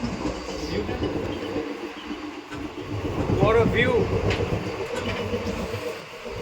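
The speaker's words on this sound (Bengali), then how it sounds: "ট্রেনের দুটো কম্পার্টমেন্টের মাঝখানে দাঁড়িয়ে আছি এখন।" A moving train's steady, loud rumble and rattle fills the space between two compartments, with a person speaking over the noise.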